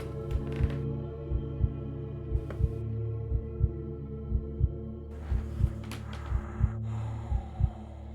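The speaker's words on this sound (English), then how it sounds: "The heartbeat is getting louder." A deep, slow heartbeat thuds in regular doubled pulses, about one per second, over a low sustained hum in a dark, spooky scene, with faint hissing texture drifting in and out and no voices.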